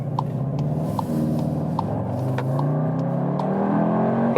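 Volkswagen Tiguan R AWD SUV (2021) accelerating hard in race mode, engine note rising steadily through the gears with a brief shift, heard from inside the cabin, loud and continuous.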